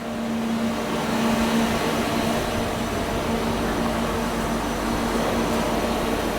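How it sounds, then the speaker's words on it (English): Steady, dense machine roar from a bank of about ten CNC milling machines running in a bicycle parts factory, with a constant tonal hum throughout and no pauses. "for the manufacturing of these parts we have here like 10 CNC milling machines"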